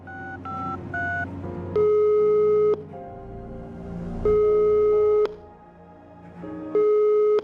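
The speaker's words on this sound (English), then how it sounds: "By dialing 823-7653, we were able to get in contact with our amphibian coworker." In the video game ENA Dream BBQ, a phone call to Frogman plays out as loud keypad tones dialing the number, followed by long steady ringback tones alternating with pauses.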